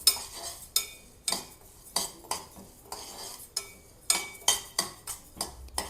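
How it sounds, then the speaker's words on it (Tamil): Masoor dal and moong dal dry-roast in a pan, stirred with a utensil in a rhythmic run of crisp scraping strokes about every half second. The strokes are close and clear, with no sizzle and no voices. "அப்புறம் மசூர் தால், அப்புறம் பாசிப்பருப்பு எல்லாம் போட்டு ஒரு 5 நிமிஷம் நல்லா வறுத்துக்கோங்க"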